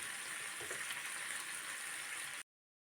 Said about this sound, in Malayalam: സാവധാനത്തിൽ ലോ ഫ്ലെയിമിലിട്ട് തന്നെ മീൻ ഫ്രൈ ചെയ്തെടുക്കണേ